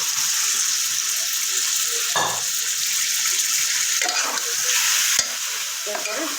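Chicken marinated in soy sauce and tasting salt goes into hot oil for fried rice and fries with a constant close hiss, broken by a few knocks of stirring.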